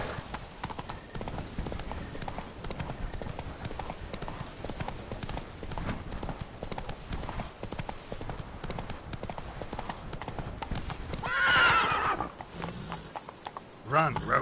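Roach the horse gallops in The Witcher video game, with rapid rhythmic hoofbeats running continuously and a brief neigh or whinny rising near the end.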